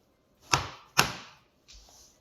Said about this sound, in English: we can start using the chisel